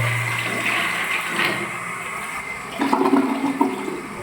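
Bidet sprayer in a newly built bathroom, running water under strong supply pressure, steady and close, with a rushing, splashing change partway through.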